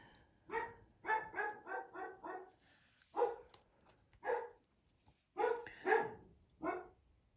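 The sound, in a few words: dog barking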